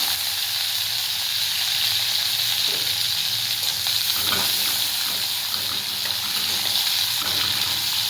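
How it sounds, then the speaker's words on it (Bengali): Capsicum frying in white cooking oil, a steady loud sizzle with a watery hiss running throughout, plus a few soft scraping stirs near the middle. "এটাকে 1 মিনিট ফ্রাই করে নেব"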